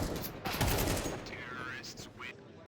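Desert Eagle pistol fire in Counter-Strike 2 at a grand final esports match, a dense burst of sharp shots blending into busy game sound under steady commentary voices.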